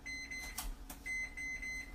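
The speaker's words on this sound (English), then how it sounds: "back in the microwave it goes" A microwave oven being restarted for a couple more minutes to heat meat for Philly cheesesteak sliders gives a short run of electronic beeps, then a second longer series after a brief gap, close and clear.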